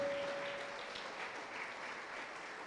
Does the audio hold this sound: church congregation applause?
yes